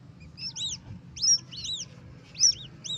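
A small black bird chick, thought to be a myna or rail, gives quick high chirps in short clustered bursts, fairly faint and close, over a soft low background murmur.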